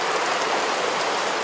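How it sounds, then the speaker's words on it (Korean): Heavy, sudden rain pours down in Kateraké village, a loud, dense, continuous hiss of drops striking surfaces close by, with no voices. "도착하자마자 내리는 갑작스런 소나기에 집 안으로 들어갔습니다."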